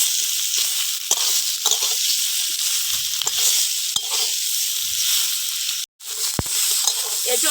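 Young jackfruit fries with turmeric and chili powder in a steady loud sizzle, broken by stirring knocks and scrapes and a sharp sudden clatter near the end.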